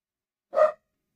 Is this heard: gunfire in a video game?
no